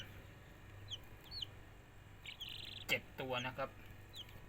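Faint, high peeping of newly hatched Light Sussex chicks, about three days old, scattered short chirps over a low background hum, with someone speaking briefly.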